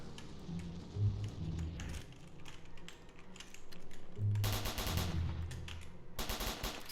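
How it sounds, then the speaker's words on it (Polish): Rapid bursts of gunfire aimed at a black car's tyre during a police chase in the Roblox game Emergency Response: Liberty County, two loud volleys of quick repeated shots with clattering game sounds between them. "Jest poszukiwany, strzelam do niego."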